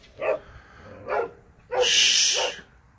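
Three sharp dog barks a short distance away, the last one longer and harsher, with quiet gaps between them.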